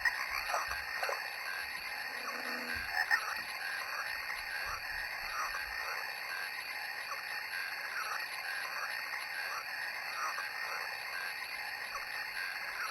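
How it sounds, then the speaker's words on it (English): Goofy frog croaking, an environmental sound effect played from a hacked Timex T307 spirit box, repeats steadily across the whole stretch over a constant electronic hiss, with no voices. "we have frogs croaking. It's a pretty goofy one. And you can hear them paddling about in a pond."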